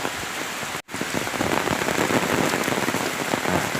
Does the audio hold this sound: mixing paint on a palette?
no